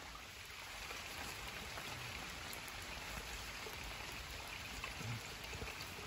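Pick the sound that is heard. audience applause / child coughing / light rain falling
light rain falling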